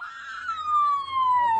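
A boy imitates an ambulance siren with his voice, a loud, close wailing tone that holds high then slides steadily downward in one long sweep.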